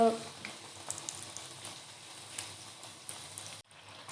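Khari patties sizzle in hot oil over a low gas flame. A steady, fine frying hiss with scattered crackles continues throughout, close and moderately quiet, with a brief dropout near the end.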